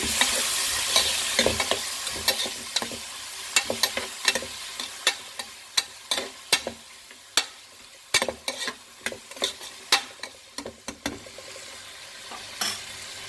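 Tomatoes sautéing in a pan for a red cow pea rice dish. A continuous gentle sizzle sits under a rapid, uneven series of close spoon knocks and scrapes against the pan as the mixture is stirred.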